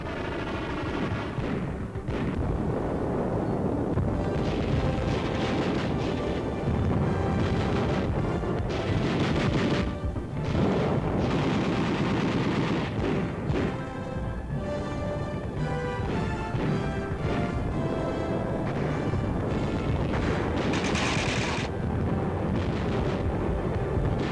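Troops attacking in a military training exercise, with sustained heavy gunfire, machine-gun bursts and booming artillery blasts overlapping densely and loudly throughout, without speech.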